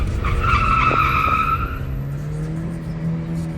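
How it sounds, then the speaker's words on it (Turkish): Tires on a Mercedes-Benz E180 (W214, 170 hp) squeal loudly for about two seconds as the car corners, with the engine droning underneath and the screech then fading into steadier road noise. "Lastik çok gürültülü, çok bağırıyor."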